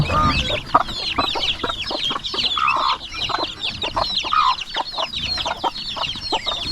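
Turkeys gather on a farm, giving a busy stream of repeated clucks and gobbling calls, close and fairly loud, with overlapping bursts and no talking.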